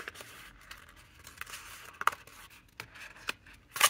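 Scissors cutting paper or card at close range, a handful of short, sharp snips spaced irregularly across a quiet background with light rustling between them.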